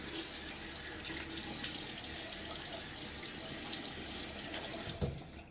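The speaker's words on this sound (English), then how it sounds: "Throw a little water on my face." Running water from a tap splashes steadily into a sink, a continuous close hiss with small surges, stopping near the end.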